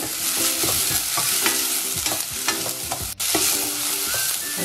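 Thickly cut carrot sautéing in a pan for gluten-free khichdi, a steady frying hiss with rhythmic scraping stirs and clinks of a spoon against the pan, close and fairly loud.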